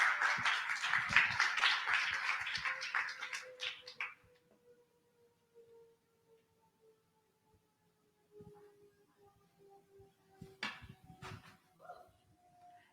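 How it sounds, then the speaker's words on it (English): Applause at a women's conference welcoming a remote speaker, a few seconds of moderate clapping that dies away, followed by quiet with scattered thumps and a low hum. "Let's give her a round of applause as we welcoming the video."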